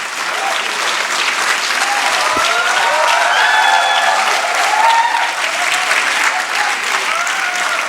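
Sustained, loud applause fills a hall at the close of a college skill-up session, an even wash of many hands with faint voices mixed in.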